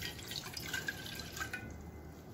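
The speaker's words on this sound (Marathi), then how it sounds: "त्यात मी 1 कप पाणी घालणार आहे।" Water is poured from a cup into a pot sitting on a gas stove over medium heat, a soft, close trickle and splash that stops after about a second and a half.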